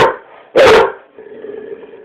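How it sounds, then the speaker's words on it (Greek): A pet dog frightened by a moving balloon lets out one sharp, loud bark, followed by a low, rumbling growl, close by and with no talk. "τον φοβάται το μπαλόνι και το γαυγίζει"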